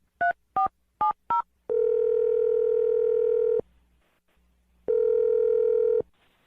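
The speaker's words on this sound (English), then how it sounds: "I'm going to dial the phone number right now" Four short touch-tone beeps are keyed in quick succession on a telephone. Two long, loud, steady ringback tones follow, separated by a brief silence.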